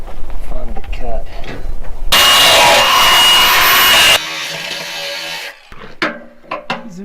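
A power tool cuts through a damaged metal part on a welding job: a loud, steady grinding whine runs for about two seconds, then a rougher, quieter stretch of cutting noise follows, with speech before and scattered clanks and talk afterward.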